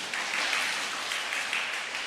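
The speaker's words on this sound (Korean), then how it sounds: "다 기뻐서 박수 치시는 거죠." A church congregation applauding during a Sunday worship service, a soft, steady patter of many hands clapping heard from a distance, faint and continuous for a couple of seconds.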